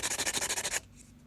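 A metal file rasps across a rivet on a leather cuff in about eight quick, even back-and-forth strokes, close and fairly loud, then stops and leaves near silence.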